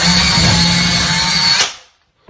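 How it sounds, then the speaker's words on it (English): A power drill whines loudly and steadily for over a second as it bores into drywall, then spins down and stops. "Then you're going to take your drill and you're going to drill your hole."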